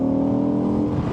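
A Victory Octane cruiser motorcycle engine throbs close and loud with a steady, rich tone that swells into a brief rev near the end of about a second.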